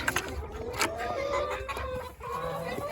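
Chickens clucking around a farmyard in a steady stream of overlapping calls, fairly close, with a low background rumble and no talking.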